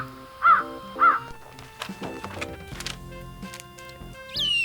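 A raven in a children's picture-book story gives two loud, close caws, followed by softer clicks and musical tones.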